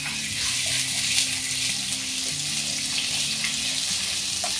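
About a tablespoon of ginger garlic paste fries in hot oil for goat brain fry, giving a steady, close sizzle and crackle that runs evenly throughout with no talking.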